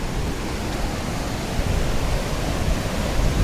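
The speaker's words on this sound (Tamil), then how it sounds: "தண்ணி பாருங்கள் எவ்வளோ ஸ்பீடாக கொட்டுதுன்னு" Thoovanam waterfall in a deep forest near Munnar, its water pouring down fast in a steady, loud, broadband roar that stays unbroken and close throughout, with no voices.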